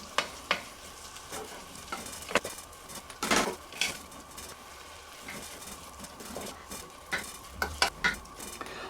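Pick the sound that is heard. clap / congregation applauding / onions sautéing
onions sautéing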